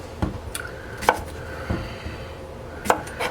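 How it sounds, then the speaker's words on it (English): A knife chops the ends off small garden cucumbers on a cutting board, giving several sharp, separate thuds spaced unevenly, close and clear with no talking. "Basically what we're going to do is cut the ends off"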